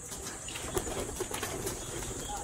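Racing pigeons coo softly at close range in a loft before the morning feed, low repeated coos over a steady background hiss.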